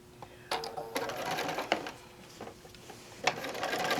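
A sewing machine stitches a placemat in short bursts, a quick mechanical whirring hum with clicks and pauses between runs, close and moderately loud.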